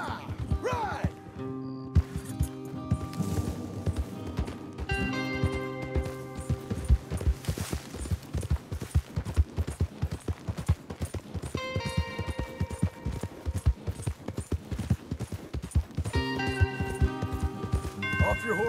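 Rhythmic hoofbeats of horses running in the video game Red Dead Redemption, steady clip-clop under music and occasional voices throughout.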